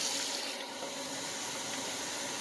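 Hot water runs from a tap into a bowl, a soft steady hiss and splash heard alone at a fairly quiet level for a couple of seconds.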